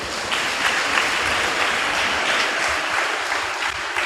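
A Telugu church congregation claps together in a loud, dense, steady burst of applause that holds evenly for several seconds with no talking over it.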